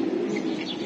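Pigeons at a farm keeping Giribaz racing birds, giving a low, continuous cooing murmur close by with faint higher chirps over it, no talking.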